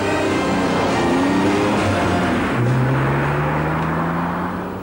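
A Porsche 944 drives past with a steady, loud engine drone, its pitch rising smoothly as it accelerates over the whole stretch, with no voices.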